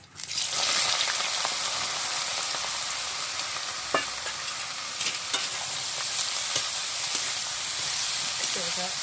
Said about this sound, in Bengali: এর মধ্যে আমি এখন বেগুনটা দিয়ে ভাজা ভাজা করে নেব।